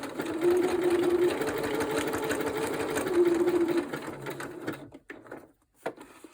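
Sewing machine stitching steadily at a craft table, a continuous mechanical whir that runs for about four and a half seconds, pauses briefly, then trails off into near silence with a few faint clicks.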